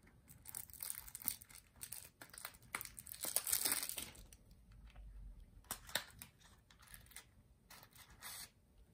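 Packages of Botan rice candy are torn open, with close crinkling and rustling of thin wrappers and short tearing bursts, quiet and irregular.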